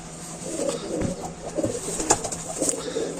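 A racing pigeon arrives home, with pigeons cooing and fluttering nearby, soft repeated calls with a few wing flaps and light knocks, no talking.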